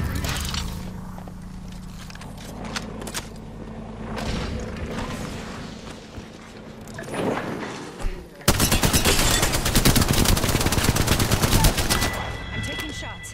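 Video game gunfire from Apex Legends, with scattered shots early on, then a loud, dense burst of rapid automatic fire from about eight seconds onward.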